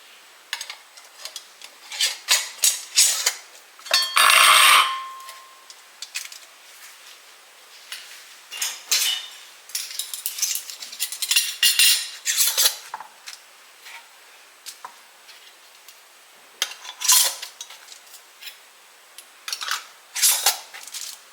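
Hot glass jars of boiling mango salsa clink and tap sharply in irregular bursts, with scattered knocks and rattles of glass handled on a hard surface, close and fairly loud.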